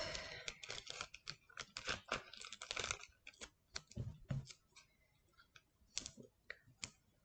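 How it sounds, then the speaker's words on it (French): Small pieces of thin 3D craft foam being snipped, a quick series of close, dry clicking cuts in uneven bursts, fairly quiet, with a few pauses between snips. "Je coupe mes morceaux."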